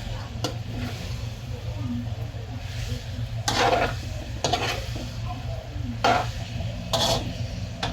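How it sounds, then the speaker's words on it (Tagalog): Pork liver being stirred and sautéed in a pan for menudo: a soft, steady sizzle runs throughout, broken by several brief scraping clatters of the utensil against the pan. "Hinalo ko na yung atay para yung atay nagigisa."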